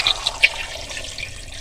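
About 1.5 litres of water poured into a cooking pot, a brief splashing gush with a few sharp spatters at the start, then a softer trickle, close and alone.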